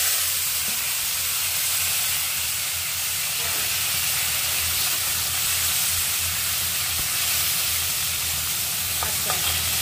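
Two tomatoes dropped into browned tempering spices in hot oil, a dense, steady sizzle and hiss running throughout with faint stirring clinks near the end.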